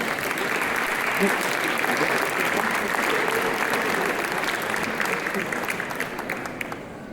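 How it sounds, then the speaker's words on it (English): Audience applause at a Burgundy wine tasting event, sustained clapping from a crowd that holds steady and then thins out toward the end, with some voices mixed in. "So I would like you to really cheer up for Clarisse and enjoy the tasting"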